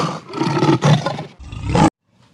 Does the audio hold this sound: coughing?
no